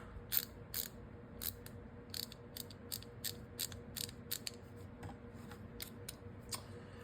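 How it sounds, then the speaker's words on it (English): A Husky ratcheting stubby screwdriver is turned back and forth, producing quick bursts of small, crisp ratchet clicks in an irregular rhythm, close up and quiet. "It does ratchet with very little effort."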